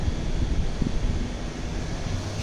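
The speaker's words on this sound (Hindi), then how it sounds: "अच्छी हवा चल रही है, ठंडी ठंडी।" Cool wind gusting through swaying trees before rain, a steady broadband whoosh that buffets the microphone continuously with low rumbling surges, loud and close, no voices.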